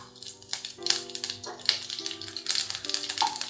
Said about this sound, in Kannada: ಒಣಗಿದ ಮೆಣಸಿನ್ಕಾಯಿ, ಜೀರಿಗೆ ಎಲ್ಲ 1 ಫ್ಯೂ ಸೆಕೆಂಡ್ಸ್ ಫ್ರೈ ಮಾಡ್ಕೊಳ್ಳೋಣ